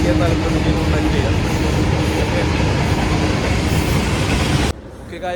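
A train passes close by in Russia, a loud steady rumble of rolling wagons with clattering wheels that holds for several seconds and then drops away abruptly, leaving quieter background noise.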